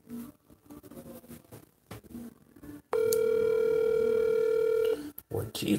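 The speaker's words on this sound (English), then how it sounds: "And the phone is ringing." A telephone ringback tone sounds on an outgoing call, a steady loud electronic tone lasting about two seconds, with room noise and a voice before and after it.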